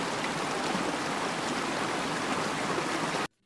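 A waterfall at Namtok Khao Nam Chon in Nakhon Nayok gives a steady, loud rush of falling water that continues without a break, then cuts off abruptly at the end.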